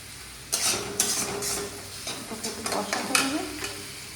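Food being stirred and sautéed in a pan, a steady sizzle broken by repeated scraping strokes of a spoon against the metal, close and fairly loud.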